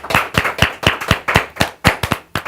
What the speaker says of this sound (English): I paid them for the applause, 25 cents.